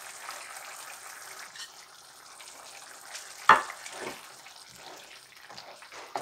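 Salsa ranchera simmers and bubbles softly in a pan, a faint steady sizzle with a sharper clatter midway and brief stirring sounds after.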